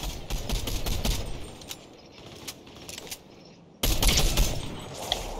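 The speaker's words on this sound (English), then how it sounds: "I don't see where you're shooting." Gunfire in the Fortnite video game, with rapid bursts of automatic shots and a sustained heavy volley near the end, loud and close, with no voices.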